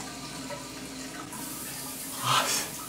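A bidet running water in self-cleaning mode, a steady faint spray that swells into a brief louder hiss and splash near the end.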